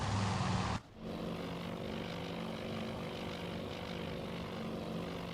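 Torpedo bomber aircraft engines in the naval strategy game Task Force Admiral: after a sharp cut, a steady, low propeller drone hums on at a distance, faint and unbroken with no talk.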